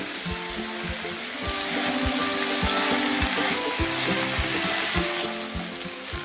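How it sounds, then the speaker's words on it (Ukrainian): Chopped chicken hearts sizzle and crackle steadily in a hot frying pan, with occasional scraping of a utensil stirring them; close and continuous, no talking. "Нарізані порційні шматочки відправляємо на сковорідку."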